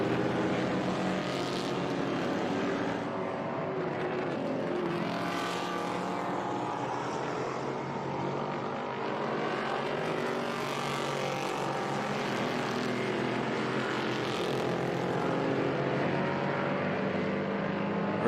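Vintage race cars roar through turn 5 at WeatherTech Raceway Laguna Seca in the HTA feature race, a continuous loud engine drone with several cars swelling past in succession.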